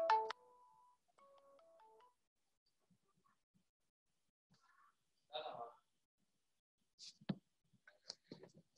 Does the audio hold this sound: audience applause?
no